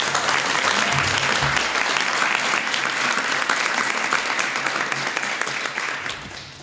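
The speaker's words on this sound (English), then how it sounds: "Can we give them a round of applause?" Sustained, dense applause from an audience at a healthcare education hub press conference, loud and steady for several seconds before tapering slightly at the end, with no one speaking.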